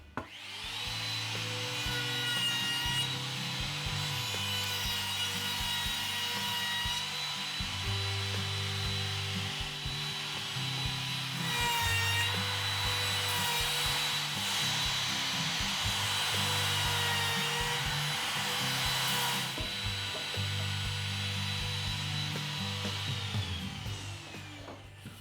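Handheld router with a chamfer bit running at a steady high whine as it cuts along cedar siding edges, loud and close with small shifts in pitch as it moves along the board.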